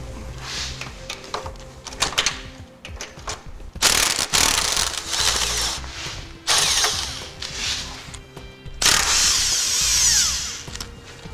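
A power tool spins off the tow hook fasteners on a 2003 Chevrolet, with several short whirring, ratcheting bursts of varying length separated by brief gaps and small clicks.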